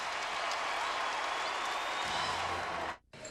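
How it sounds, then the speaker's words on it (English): Loud, continuous crowd noise fills a basketball arena in Lawrence, Kansas, during a timeout in an Ohio State at Kansas game, then cuts off abruptly near the end as a different sound begins. "The crowd is boisterous here in Lawrence"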